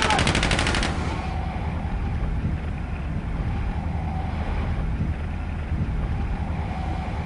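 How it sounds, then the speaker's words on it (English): Gunfire at sea from the Mármara: a fast rattling burst at the start, then continuous loud wind and boat noise buffeting the microphone, with faint voices mixed in. "Stop shooting! Why are you shooting?"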